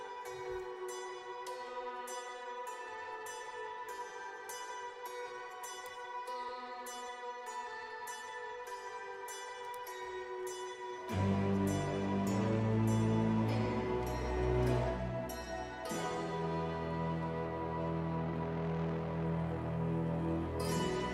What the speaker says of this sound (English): we are coming into the auto harp, and it sounds beautiful